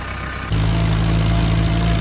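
A tractor engine runs with a steady, heavy low drone, loud and close, kicking in strongly after a brief quieter moment and holding constant throughout.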